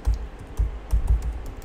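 Rapid, uneven keystrokes on a computer keyboard come in close bursts with short pauses while a Power Automate flow is being set up; no voices.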